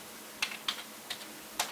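Four separate keystrokes on a computer keyboard while a command is entered, soft close clicks spaced unevenly over a faint steady hum.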